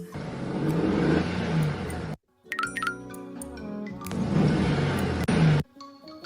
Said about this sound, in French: Une voiture.